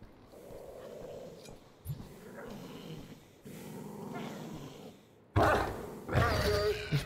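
Dogs growl low and rumbling in the video game Wolfenstein The Old Blood, a fairly loud stretch of throaty growls mixed with snorts and harsh breaths that swell near the end.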